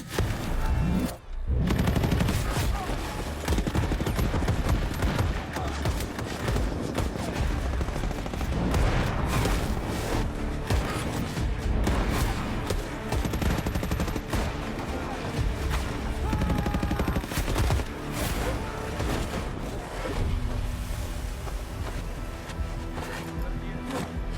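Sustained barrage of gunfire and explosion sound effects rolls on without pause in a school stage show's war scene, heavy and loud, with battle noise and occasional voices buried beneath.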